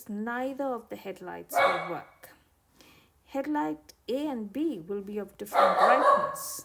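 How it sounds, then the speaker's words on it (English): A pet dog barks and yips in short bursts at close range, interleaved with a person speaking steadily throughout. "sorry, that's my dog."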